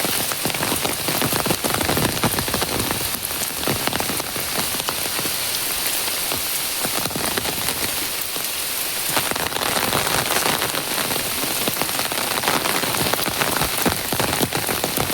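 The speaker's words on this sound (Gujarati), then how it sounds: "વરસાદની શરૂઆત થઈ ગઈ ધીમે ધીમે." Steady rain pattering over a cotton field, a dense, even hiss of drops that holds without pause, fairly close and with no one speaking.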